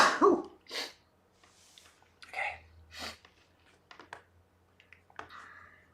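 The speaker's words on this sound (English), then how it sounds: "Oh, I have to sneeze, I think." A single close sneeze bursts out at the very start, followed by a few breathy sniffs and throat sounds in an otherwise quiet room.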